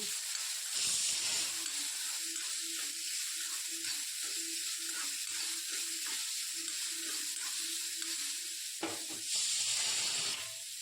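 Sliced bitter gourd fries in oil in a pan over a low flame, a steady, soft sizzle with repeated scraping as it is stirred, and louder bursts of hiss near the start and end.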